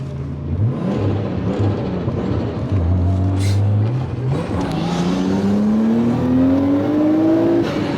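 A Nissan Skyline's swapped engine revs and accelerates hard, its pitch climbing steadily, loud and close, with a brief gear change midway.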